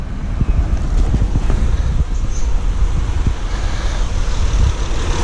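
Honda car engine idling with the A/C cooling fans running: a steady, close low rumble under a constant broad whooshing roar, with no talking.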